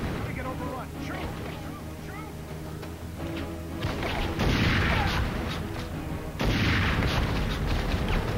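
A rocket explosion in a video game, two heavy booming blasts a couple of seconds apart landing over a dense, busy soundscape with a voice speaking underneath.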